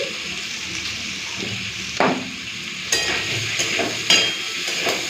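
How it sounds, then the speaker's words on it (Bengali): Potatoes frying in oil in a pan with onions: a continuous sizzle lasts throughout, broken by several sharper spoon scrapes and knocks against the pan. "প্রথমে আলুটা লাল করে ভেজে নিই"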